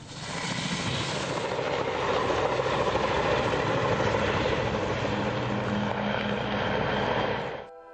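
A loud, steady roar from a helicopter braking hard on approach to landing, dense rotor and engine noise throughout, fading out abruptly at the end.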